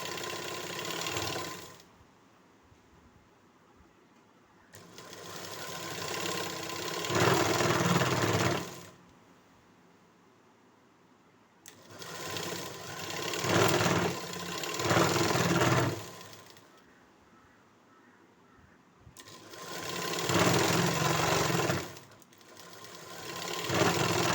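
A sewing machine stitches fabric in three loud, steady bursts of rapid mechanical whirring, with near silence between runs.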